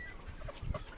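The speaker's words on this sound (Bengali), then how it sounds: "এই মুরগিগুলো বসে আছে," Chickens perched on bamboo poles inside a small crowded poultry house give a few quiet, brief clucks.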